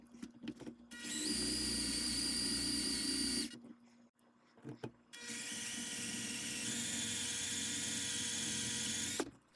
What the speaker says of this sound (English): I'm hyper aware of how straight I'm drilling, and I'm stopping every so often to double check.